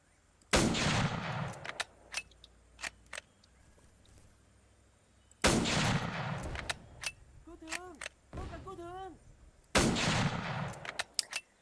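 Gunfire in the Arma 3 video game during a Vietnam-era operation: three loud, sharp shots spaced several seconds apart, each with an echoing tail, among scattered clicks and a faint warbling voice.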